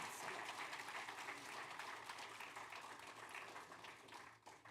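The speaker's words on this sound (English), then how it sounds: "another round of applause for Sheikh Al-Aziz" An audience at an Imam Hussain Day program claps for a speaker, a fairly faint, steady patter of applause that thins slightly toward the end.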